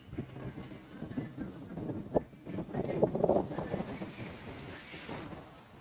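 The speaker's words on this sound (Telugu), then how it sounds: "ఇక్కడికి వచ్చి కూర్చుంటే చాలా గాలి వస్తుంది" Wind gusts outdoors near factories in a hot area, buffeting the microphone with a soft, uneven rumble that swells in the middle and stays fairly quiet overall.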